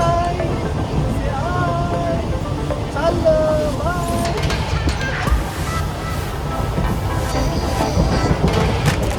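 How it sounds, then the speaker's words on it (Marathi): A train at a railway station platform at Virar, heard as a steady low rumble with faint squealing and clatter, while people talk nearby. "आपली ट्रेन आली प्लॅटफॉर्म नंबर 1ला"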